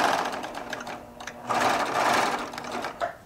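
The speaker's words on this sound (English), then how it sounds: "we're going to let it actually serge without stretching for just a little bit" A Baby Lock Triumph serger stitches an elastic waistband, its motor whirring in a steady close run that dips briefly before surging loud again, with no talking over it.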